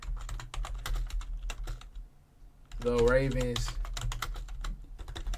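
Rapid clicking of a computer keyboard, irregular bursts of keystrokes, close and clear, broken by a short pause while someone talks briefly over a low background hum.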